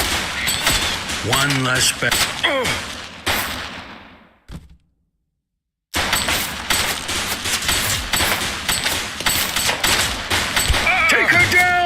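Rapid bursts of automatic gunfire and single shots in The Precinct, dense and loud, stopping abruptly for over a second of silence before resuming, with shouted voices mixed in.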